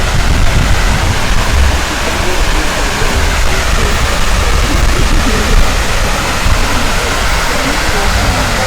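Waterfall in the grounds of Schönbrunn Palace in Vienna, a steady, loud, close rush of falling water that fills the whole clip without a break.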